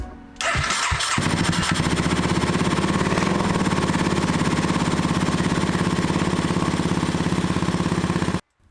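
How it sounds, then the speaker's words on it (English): A Honda Grom motorcycle with an engine swap cold-starts on a new exhaust with baffles in: a brief cranking, then the engine catches and settles into a loud, steady, rapid idle, cutting off at the end. "Which gave us the perfect excuse to do a cold start for the new exhaust."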